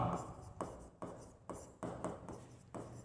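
During a maths lesson, marker or chalk strokes rub across a board in a steady rhythm of short scratchy swipes, about one every half second, faint and close.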